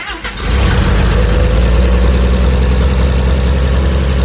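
A Chevrolet Tri Five that sat for thirty-seven years cranks briefly, then catches and settles into a loud, steady running rumble close by, fed from a gas jug with the coil jumpered.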